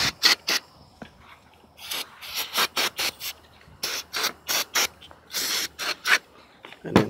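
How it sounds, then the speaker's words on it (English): Brake cleaner sprays in repeated short hissing bursts onto Chevrolet Malibu brake parts, some bursts longer than others, close and fairly loud with quiet gaps between. "We're gonna spray some brake cleaners, park cleaners on it."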